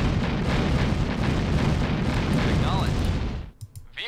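Units fire and explosions hit an enemy base in Red Alert Counterstrike, a dense, loud, continuous barrage of booms and gunfire that cuts off abruptly near the end, leaving a few faint pops.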